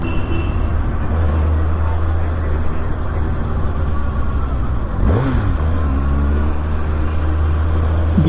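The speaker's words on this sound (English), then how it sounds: "He just knew that I had to rev it a bit for him." Kawasaki ZX6R 2024 motorcycle engine running loud and close, a steady low droning note with a brief rising rev swell midway, over continuous road and wind noise.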